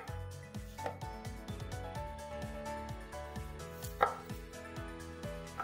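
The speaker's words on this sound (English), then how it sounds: "Cut the potatoes into 1/4." A knife chops potatoes into quarters on a cutting board for garlic mashed potatoes, with a steady run of quick, close taps under quiet background music.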